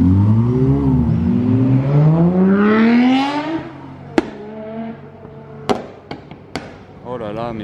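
Sports cars race along a city street. One engine revs up loudly and climbs in pitch before fading as it passes, followed by sharp backfire pops and cracks while people talk nearby.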